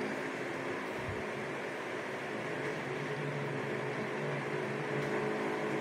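An electric hand mixer whirring steadily and evenly through a bowl of avocado ice cream with chunks of cheese, a dense continuous motor hum close by with no pauses.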